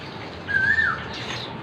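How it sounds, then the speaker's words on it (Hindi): A koel gives a single rising whistled call in the early morning, clear and moderately close, standing out over faint background ambience for under half a second. "कोयल कोयल बोल रही है।"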